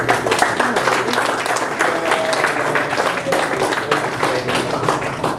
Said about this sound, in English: would you please put your hands together and applaud Ms.